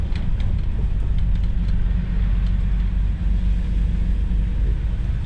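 Low steady engine rumble and road noise inside an Elektron bus driving on route 24 in Uzhhorod, constant and close, with no talking.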